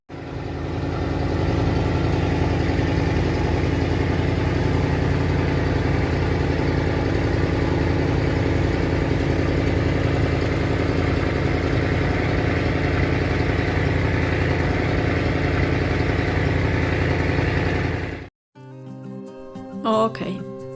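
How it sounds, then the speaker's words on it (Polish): A riverboat engine on the Mekong in Laos drones loudly and steadily in a confined engine room for most of the clip, then cuts off abruptly, leaving quieter mechanical clatter. "Oszczędzę Wam miazgotu silnika, który nam towarzyszył w sumie przez 15 godzin"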